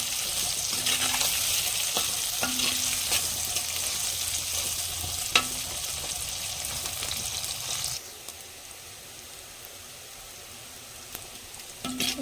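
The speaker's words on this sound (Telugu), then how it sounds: "చూడండి ఇలా బాగా ఫ్రై చేసుకోవాలి" Katla fish pieces fry in a pan for a village-style tamarind fish curry, giving a steady close sizzle with occasional utensil clinks. The sound drops to a quieter hiss partway through, with no talking.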